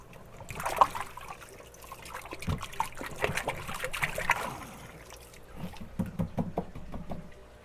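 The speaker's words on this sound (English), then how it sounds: "give it a little shake in the water." An aquarium sponge filter is swished and shaken in water in a fish room, giving close, irregular sloshing, dribbling and trickling splashes in bursts. It pauses briefly, then the splashing resumes.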